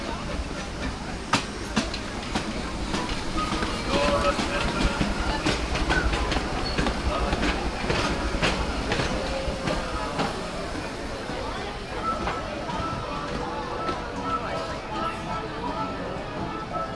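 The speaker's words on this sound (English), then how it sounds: "take a little nice relaxing ride on the Disneyland Railroad" Disneyland Railroad train rolling along its track, a continuous rumble with rhythmic clickety-clack of wheels over rail joints and occasional squeals, heard from aboard under people talking.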